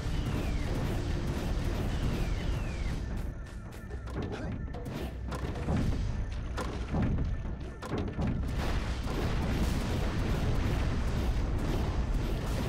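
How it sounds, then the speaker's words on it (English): Explosions in the video game Jak and Daxter: The Precursor Legacy, a dense stretch of deep booms and thuds layered over constant game noise and rumble, moderately loud and continuous throughout. "Explosions."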